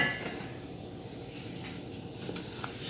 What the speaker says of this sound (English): Stir it slightly with a wooden spoon just to get all of those seasonings all combined